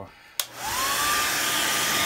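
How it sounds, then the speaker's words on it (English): A hair dryer clicks on and settles into a steady, loud whooshing blow with a thin high whine, running continuously without any talk. "And a hair dryer"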